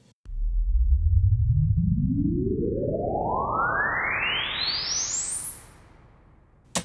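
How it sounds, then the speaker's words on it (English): A sine sweep played into a large East German reverb space and recorded with stereo microphones, rising steadily from deep bass to a high whistle with a thick reverberant wash trailing beneath it before fading. "So this is basically the sweep plus the reverb."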